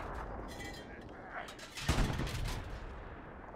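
Artillery fire in Hell Let Loose, a heavy boom landing midway through a steady rumbling battlefield backdrop, with distant crackling shots and a faint voice in the mix.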